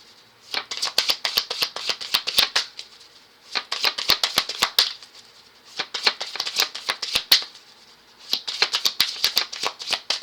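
Tarot cards shuffled by hand in quick riffling bursts, four separate rounds of rapid crisp flutters with short pauses between, close and clear with no talk.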